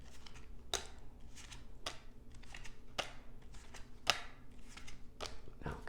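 Tarot cards being cut and handled: soft, close papery slaps and shuffling rustles recur irregularly, with a few sharper snaps among them, quiet and without voices.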